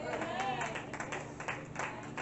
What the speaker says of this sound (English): Give the Lord a hand clap for the word.